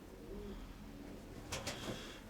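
Faint, low cooing of a female pigeon in a noisy, hissy setting, with a few brief sharper sounds near the end.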